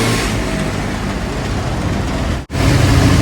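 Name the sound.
rain falling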